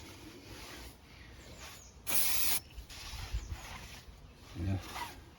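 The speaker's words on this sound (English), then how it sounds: "I'm just gonna clean it up with brake cleaner." Brake cleaner sprayed onto the tire of a Triumph Tiger 1050 SE motorcycle gives one short, loud, close hiss lasting about half a second, set against quiet background noise.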